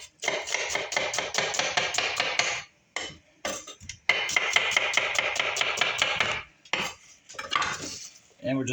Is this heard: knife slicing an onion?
yes